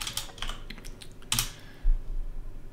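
Fingers tap on a computer keyboard in a short, uneven burst of close, crisp keystrokes, with a louder cluster of clicks partway through and a soft thump near the end.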